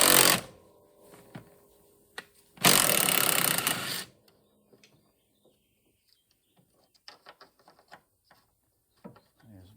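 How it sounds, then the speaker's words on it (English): A ratchet with a 9/16 socket works loose the sway bar nuts and bolts on the Jaguar independent front suspension from a 1956 Chevy pickup. Two loud rasping bursts come first, then sparse, faint clicks. "I've got a ratchet on top with a 9/16 socket because, like I said, they're not studs,"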